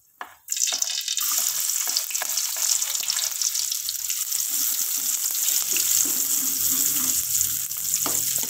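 Shallots hit hot oil in a pan and break into a loud, steady sizzle after a brief quiet start, the bright hiss holding continuously close up with faint stirring scrapes.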